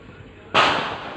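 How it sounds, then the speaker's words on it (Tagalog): A single firecracker bursts sharply after a brief quiet moment, a loud crack that trails off into a fading rumble outdoors. "may putukan na."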